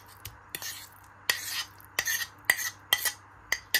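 Cooked squash is scooped into a bowl: a spoon clinks and scrapes against the dish in about nine distinct, irregular knocks, close and clear over near silence.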